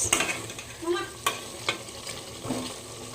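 Chicken curry cooks in a pan with a soft sizzle beneath several distinct scraping and clacking stirs of a spoon, spaced irregularly and heard up close.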